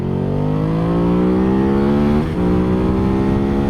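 A 2014 Ducati Hyperstrada 850cc motorcycle accelerating hard, its engine note climbing steadily in pitch through the gears, loud and close, with a brief dip at a shift before it pulls on.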